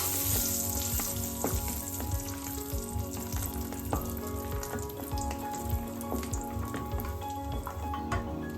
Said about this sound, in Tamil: ஒரு முந்திரி, ஒரு 4 பாதாம், ஒரு 2 டேபிள் ஸ்பூன் அளவுக்கு கிஸ்மிஸ் பழம் எடுத்து நம்ம இதை நல்லா ஃப்ரை பண்ணிக்கலாம்